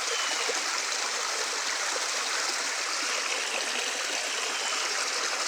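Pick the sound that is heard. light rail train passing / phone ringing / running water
running water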